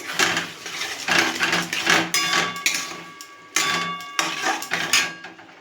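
Eggs being stirred and scrambled in a pan on the stove, with a run of sharp, irregular metallic clacks and scrapes from the utensil against the cookware, loud and close, broken by short pauses.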